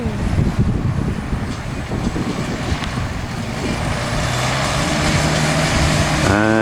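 Farm vehicle pulling away toward the next field during first-cut silage harvest, a loud steady engine roar close by, with a rising whine as it picks up speed.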